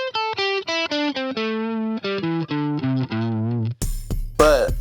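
Electric blues guitar solo with distortion, a run of quick picked and bent notes in a steady phrase, played close and loud with no talking.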